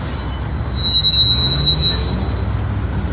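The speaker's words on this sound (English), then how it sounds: "Sounds like the DPU's ramping up a little bit here." Freight train with a distributed power locomotive throttling up, heard as a steady low rumble of rolling cars with a faint high wheel squeal running across it, and no one talking.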